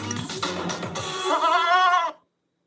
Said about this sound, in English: And there's the goat. You made a goat.